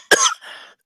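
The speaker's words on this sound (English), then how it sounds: "I don't know where that cough came from" A woman gives a single sharp, loud cough up close, followed by a softer, breathy throat-clearing trail that fades out.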